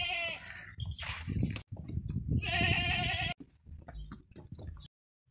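A big, heavy, well-fed desi goat at a livestock market gives several loud, wavering bleats close by, separated by short pauses, ending in silence.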